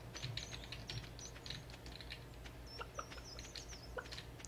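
Cartoonish chicken clucks from the Stardew Valley farming game, a few short blips mixed with chirpy bird-like game sounds over steady keyboard-like clicking and background music.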